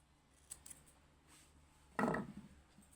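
Scissors snipping crochet yarn nearby: a couple of faint light clicks, then one crisp, louder cutting snip with a brief metallic ring, in a quiet room.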